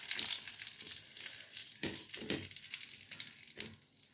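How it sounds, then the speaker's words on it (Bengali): Whole garam masala spices sizzling in hot oil for tempering after fish has been fried, a close, crackling sizzle with bursts and spatters throughout, no talking. "এবারে ফোড়নে দিয়ে দিলাম গোটা গরম মশলা"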